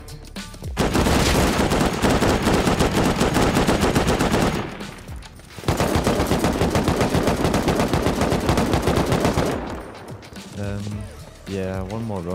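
Dense, loud bursts of automatic gunfire in the survival game Rust during an online raid, rattling almost continuously with a brief pause midway, with a few voices heard over the shooting.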